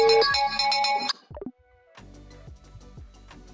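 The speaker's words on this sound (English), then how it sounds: "as I am connected to my mobile, therefore it is ringing as well" A mobile phone rings loudly up close with a bright, repeating melodic ringtone from a WhatsApp call placed through MS Access. It stops abruptly, and fainter clicks and tapping follow.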